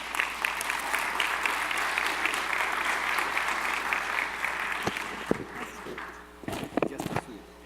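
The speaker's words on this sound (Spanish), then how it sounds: "démosles un aplauso para recibir a la doctora." An audience at a health institute event claps in sustained, dense applause to welcome a doctor to the stage, fading out into scattered claps, thumps and movement near the end.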